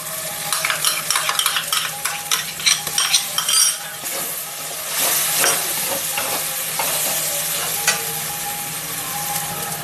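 Tomato and cashew paste frying in a pan, with loud close sizzling and a run of scraping spoon-on-metal stirring strokes early on, settling into a steady hiss and bubbling; no talk.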